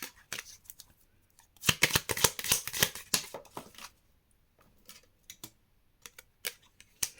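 Tarot cards riffled and shuffled by hand in a quiet room, a dense burst of crisp flicking in the middle followed by scattered lighter snaps as cards are drawn.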